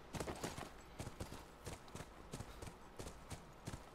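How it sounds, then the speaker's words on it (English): Horse hooves clip-clop at a steady walking rhythm in The Last of Us video game, a string of sharp, fairly close knocks repeating evenly over quiet game ambience at a ranch corral. "That's our horse."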